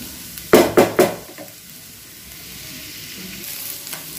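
Onions and capsicum fry in a pan for veg Manchurian. A few sharp stirring clanks come first, then a steady, fairly loud sizzle continues, with no voices.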